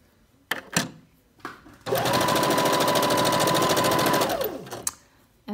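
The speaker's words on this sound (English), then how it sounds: "So I really want to make sure I sew right next to where that pin is." A sewing machine stitches a welt pocket in one loud, steady run of rapid needle strokes lasting about three seconds, framed by a few sharp clicks and thumps before and after.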